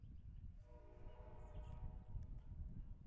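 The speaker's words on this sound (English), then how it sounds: "That pitch he actually threw right as the first train whistle was blowing." A train whistle blows in the distance beside a high school baseball game, Brookline at Needham, its long steady tone lasting under two seconds over a constant rumble of outdoor background noise.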